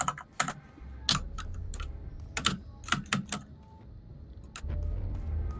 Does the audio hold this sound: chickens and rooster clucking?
no